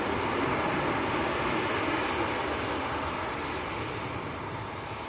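EgyptAir Boeing 777 airliner at Manchester Airport in crosswinds, a dense, continuous jet-engine roar that stays loud and even for the whole stretch, slowly easing slightly toward the end, with no talk.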